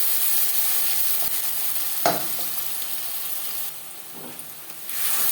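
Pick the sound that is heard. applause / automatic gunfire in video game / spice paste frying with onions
spice paste frying with onions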